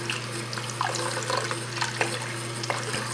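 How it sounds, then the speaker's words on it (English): Water runs steadily from a faucet into a sink, a constant close rush with small splashes and drips on top. "So now I'm just gonna turn the water faucet on just to work through"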